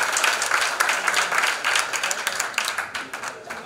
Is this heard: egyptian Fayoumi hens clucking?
no